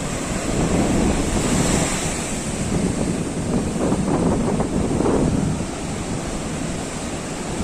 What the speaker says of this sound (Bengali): আজকে কিন্তু ঢেউ অনেক দূর থেকে কিন্তু আসছে, ছোট ছোট ছোট ছোট হয়ে বড় বড় একদম কাছে চলে আসছে দেখো।